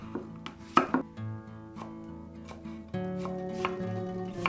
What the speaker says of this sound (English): Cut 1/4 cucumber in small sticks.